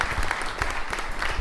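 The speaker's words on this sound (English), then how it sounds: "give everybody here that helped put this together a big round of applause" Wedding guests give a short burst of applause, dense clapping with a few louder hand claps standing out near the listener.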